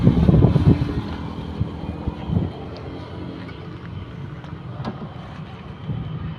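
Steady wind blows and buffets outdoors, roaring low and loud at the start before it eases to a constant rush, with faint voices and small knocks in the background.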